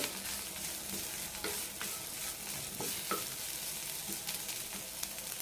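Horse gram and grated coconut dry-roasting in a pan while being stirred, a faint steady crackle and hiss with soft intermittent scraping strokes, close and without voices.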